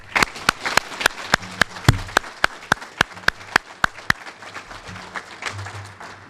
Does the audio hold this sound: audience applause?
yes